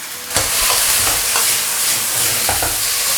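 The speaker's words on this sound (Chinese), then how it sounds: "快速大火去翻炒它几下" Garlic chive flowers and shredded pork stir-fried in a wok over high heat, a loud continuous sizzle with several sharp scrapes and clatters of the spatula tossing the food.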